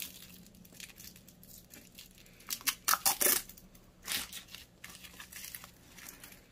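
Protective film is peeled off the bracelet of a Yema LED watch, giving close crinkling and tearing plastic sounds in several short bursts, some sharp and loud, amid quieter rustling.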